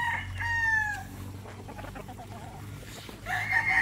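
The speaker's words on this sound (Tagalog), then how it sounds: "Yung mga eskuli na inahen, yung kay Kuya Martin, malinis ba?" Hens and a rooster in a coop holding new pullets, with a clear rooster crow at the start and another at the end, plus softer clucking and fowl noises in between, fairly close and loud.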